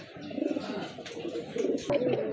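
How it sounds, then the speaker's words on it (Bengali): Pigeons coo nearby in soft, low, rolling murmurs that repeat in short bursts. "এখানে কিন্তু আরেক জোড়া কবুতর আছে দেখার মতো"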